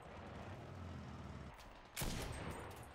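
Gunfire in the World War II shooter Enlisted during a defence match, a single sharp, loud shot bursting in after a low rumbling battlefield bed, with its echo trailing off.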